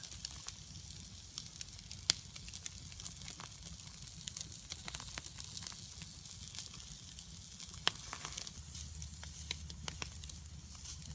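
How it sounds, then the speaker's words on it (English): Gammon steak sizzling on a grill at a solo tent campsite, with macaroni cheese in a pan nearby; a faint, steady crackling frying sound with scattered pops and no talk. "So my gammon steak's on, and I've got some nice macaroni cheese in the pan there for it."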